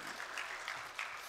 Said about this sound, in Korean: 우리 찬양 받으신 주님께 영광의 박수